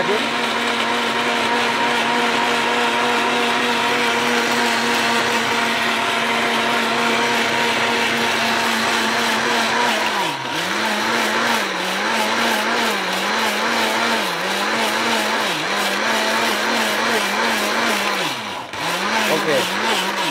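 A Miyako electric blender grinding chillies, a loud continuous motor whine that holds steady, then dips and wavers in pitch as the load shifts, running alone without talk.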